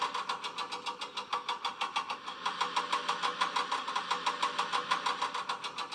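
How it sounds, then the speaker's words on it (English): A lorry's winch pulls the engine Thomas up onto the lorry, a mechanical drive clattering in a fast, even pulsing rhythm with a steady motor hum, fairly close and running alone. "The lorry driver started a winch."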